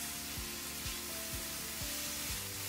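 Plums caramelizing with a little sugar in a hot pan give a steady close sizzle, with soft periodic stirring strokes against the pan and no talking.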